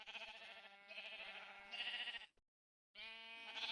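Sheep in the Minecraft 1.21 video game bleat in several drawn-out, wavering cries, loud and close, with a brief silent gap before a final bleat.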